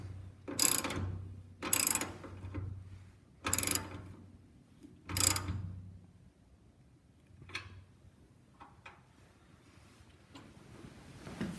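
Washers and nylock nuts are tightened on a snowblower for a John Deere 3039R tractor, with four sharp ratcheting bursts followed by quieter metallic clicks and handling noises, close up.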